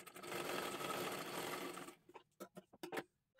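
Sewing machine running steadily while stitching a double seam along fabric tucks, a continuous close whirring for about two seconds that then breaks into short separate bursts and stops.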